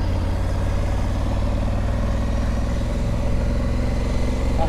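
A Honda Africa Twin motorcycle engine runs steadily at idle, a close, low, even throbbing drone with no talking over it.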